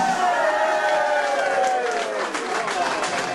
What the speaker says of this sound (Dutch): Geef hem een applaus, kom maar!